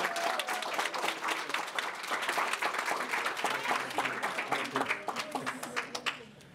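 A crowd at a baptism celebration gives a round of applause, dense clapping near and steady for several seconds before thinning into scattered claps at the end.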